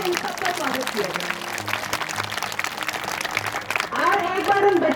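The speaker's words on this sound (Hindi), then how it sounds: "बहुत जोरदार तालियों से, गड़गड़ाहट तालियों से इन सबका स्वागत किया जाए।" Dense, steady applause from a crowd at an International Women's Day event fills the whole stretch, with a few voices and cheers rising near the end.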